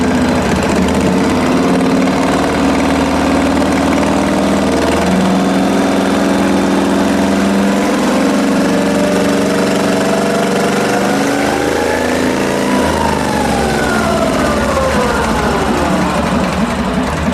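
A Ridley automatic motorcycle engine runs continuously on a test stand at close range, its pitch climbing steadily as it speeds up, then dipping and rising again near the end.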